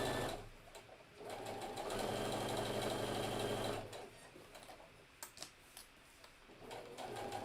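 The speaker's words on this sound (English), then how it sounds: "I am just sewing a 1/4 inch seam around this whole thing" A sewing machine stitches a quarter-inch seam around a hidden-zipper pillow, running in a steady close burst for a couple of seconds amid quieter stop-start hums and small handling clicks, with no talking.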